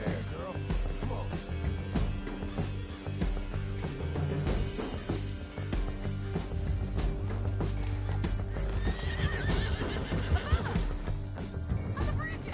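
Horses galloping down a canyon in Red Dead Redemption 2: continuous drumming hooves with whinnies and clattering impacts, while riders shout over the ride.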